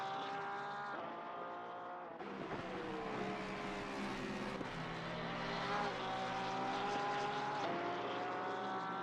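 A Porsche race car lapping Watkins Glen gives a sustained engine whine that rises and falls in pitch through the gears, heard steadily and at moderate distance with no talk over it.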